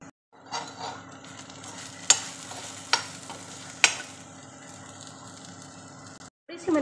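Kashmiri red chilli, coriander powder, chaat masala and salt are stirred together in a pan, with soft scraping and three sharp metallic taps of a spoon against the rim over a quiet background; a voice speaks briefly.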